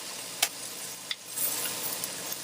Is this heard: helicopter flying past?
no